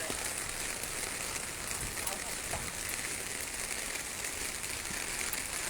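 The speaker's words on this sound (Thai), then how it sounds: "มาถึงก็ฝนตกให้เราเลย" Steady rain falls outdoors at the Phra That Tha Uthen temple site in Thailand, a dense, even hiss with crackling drops running throughout, close and constant.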